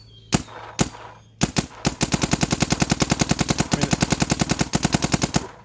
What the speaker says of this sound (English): Why don't we take some shots with it and see how it goes?